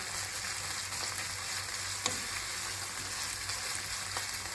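Minced meat frying in a pan with tomato paste, a continuous soft sizzle with a few faint stirring ticks, close but fairly quiet, with no voices.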